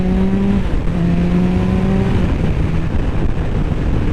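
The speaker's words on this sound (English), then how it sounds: "so you can hear the bike, because I mean this bike sounds awesome" A Kawasaki motorcycle with stock twin exhaust pipes accelerating in second gear, a loud, close, continuous engine drone with a rising then falling pitch as it pulls hard, heavy wind roar underneath and no talk.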